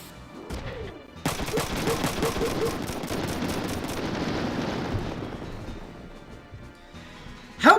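Rapid machine gun fire in the Front Mission 3 video game comes as a dense, rattling burst of shots that run for several seconds over a rumble of impacts, then fade off before a sharp final crack.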